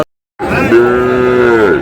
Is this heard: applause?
no